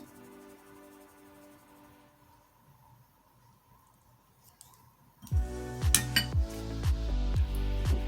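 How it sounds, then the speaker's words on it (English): Flour, baking powder and salt being sifted into a chocolate chip cupcake mixture. Quiet room tone gives way after about five seconds to close, rhythmic metallic taps and clinks that continue to the end. "all we're going to do is sift it into our mixture"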